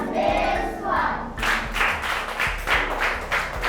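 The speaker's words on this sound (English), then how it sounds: "Clap hands for her." Children clap their hands together in a primary school classroom, a loose group of claps in rough rhythm, fairly close and steady throughout.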